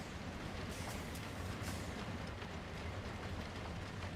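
Roller coaster train in Planet Coaster 2 rolling past with a steady rumbling clatter of wheels on track, fairly close and continuous, with no talk over it.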